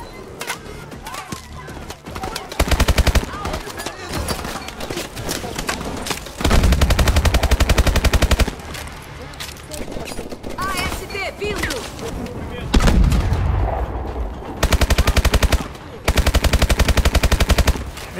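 Rapid automatic gunfire from the video game Call of Duty: Advanced Warfare erupts in several loud sustained bursts separated by quieter stretches of game sound and effects.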